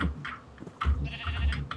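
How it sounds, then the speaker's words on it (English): Sheep bleating in the video game Minecraft, several short bleats in a row, fairly close and loud over a background of game sounds. "I'm trying to herd these sheep."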